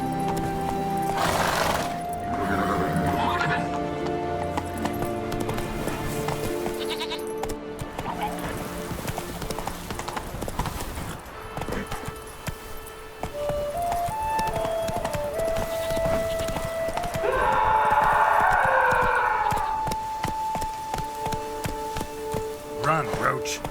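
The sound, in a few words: horse galloping in The Witcher 3 video game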